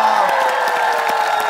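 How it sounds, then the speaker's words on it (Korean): Studio audience on the Korean variety show Starking applauding and cheering throughout, a dense continuous wash of clapping with scattered whoops, loud and close, no speech over it. "다시 한번 뜨고 박수를 부탁드리겠습니다."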